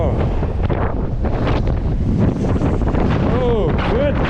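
Strong wind buffets the microphone in open country with a long view, a loud continuous roar covering the whole stretch, and a voice exclaims briefly over it.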